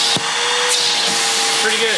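Metabo HPT cordless vacuum runs steadily and loudly throughout, a constant motor whine with a brief voice speaking over it near the end.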